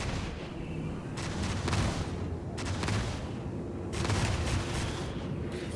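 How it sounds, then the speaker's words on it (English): Cannon fire in a video game forms a dense, continuous barrage of booming blasts with rolling waves of louder volleys, close and heavy, with no voices. "Oh shit, you got cannons as well. It's a cannon off!"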